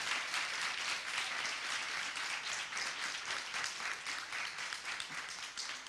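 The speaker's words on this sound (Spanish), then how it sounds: "yo le pido un aplauso" Sustained applause from an audience at a national humor award ceremony, dense steady clapping filling the room throughout with no pauses and no clear speech.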